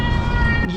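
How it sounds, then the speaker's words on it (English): A friendly neighborhood cat gives a short, clear meow, close and tonal, lasting under a second. "Hi, Mr. Kitty Cat. You seem like a friendly fella."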